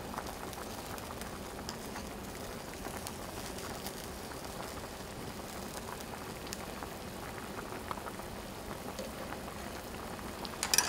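A pot of chicken basquaise simmers over medium-low heat, a soft steady bubbling and gentle popping that stays faint and even throughout.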